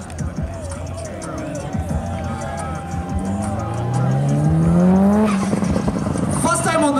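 A Subaru race car at a Sunsetcorsa Stage 1 racing event in Nyahururu, its engine note climbing through rising revs as it nears and passes loudly, with tire squeal and a cheering crowd under it.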